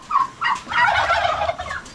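A turkey gobbles in several quick, throaty bursts, close and fairly loud, with other fowl faintly audible around it.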